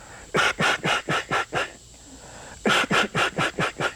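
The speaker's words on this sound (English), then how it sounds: "let's do the attention call form in the back of the call" Short raspy quacks from a Primos duck call blown as an attention call, a steady rhythmic series, a pause, then another run of loud quick blasts, close and clear.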